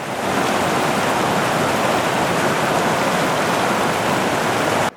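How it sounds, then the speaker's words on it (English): Whitney Creek on the back route toward Mount Whitney rushes steadily nearby, a dense, unbroken wash of flowing water heard alone and fairly loud, cutting off abruptly at the end. "Cruising alongside Whitney Creek now."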